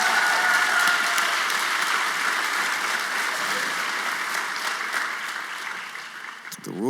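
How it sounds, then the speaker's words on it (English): An audience at a first-generation student celebration claps loudly and continuously, and the applause slowly thins toward the end. "Can we give him another round of applause?"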